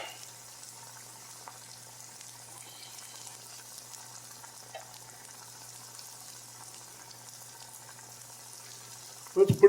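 A tomato, Canadian bacon and cheese omelet fries quietly in a pan with a soft, steady sizzle. A short burst of louder clatter comes right at the end.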